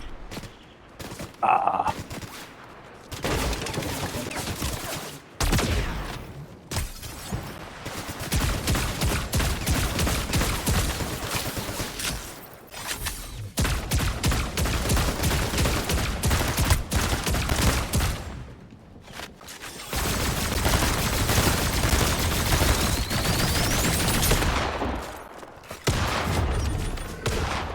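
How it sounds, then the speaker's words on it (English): Fortnite gunfire: long stretches of dense, loud automatic shooting and bursts of fire, broken by a few short pauses, with a brief exclamation from a voice near the start. "somebody somewhere is firing at us"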